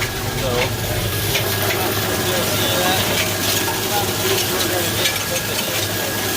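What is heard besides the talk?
tractor engine running quietly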